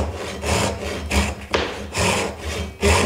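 A Japanese hand saw cuts diagonally into a wooden tenon for a joined stool, making close, steady rasping strokes in a regular push-pull rhythm, about four strokes with no talking.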